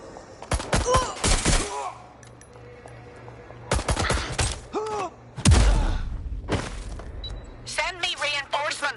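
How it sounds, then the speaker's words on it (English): Gunfire in a video game police shootout, with bursts of rapid shots and heavy impacts in several clusters, mixed with shouted voices between the volleys. "Shots fired!"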